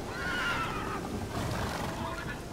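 The horse Roach whinnies in The Witcher 3: Hearts of Stone, a single loud, close neigh that wavers and falls over about two seconds, over faint outdoor game ambience.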